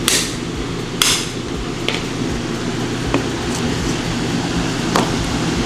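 Sharp metallic hammer strikes ring out several times at uneven intervals, close up, prying off a cap during Mercedes-Benz 190E subframe and bushing removal, over a steady mechanical hum from a fan or motor.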